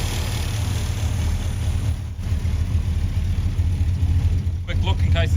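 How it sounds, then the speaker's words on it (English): A stock Holden HX Monaro coupe's 5-litre 308 V8 idles steadily and loud, a continuous deep low rumble throughout with a slight lope and brief dip near the middle. "Standard Holden 5 litre 308."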